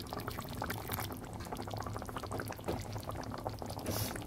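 Water poured into a simmering katla fish curry with coriander gives a continuous bubbling, liquid rush close up, steady throughout with a brief hiss near the end and no talk.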